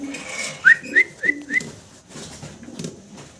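Four quick, rising whistled calls in a row from a red short-face pigeon, close and clear, followed by a quieter stretch with faint low background sounds.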